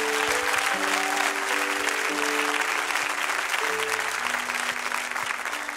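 A church congregation bursts into sustained, full-room applause acclaiming the Lord, steady and loud throughout, with held keyboard notes ringing beneath the clapping.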